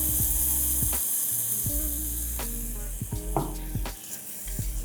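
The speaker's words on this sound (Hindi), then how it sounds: "अब मसालों को टमाटर के साथ बहुत ही अच्छे से भून लेंगे।" Spices and tomato puree frying in a pan for a carrot, pea and potato dry sabzi give a close, continuous sizzle, punctuated by scraping and clinking stirring strokes.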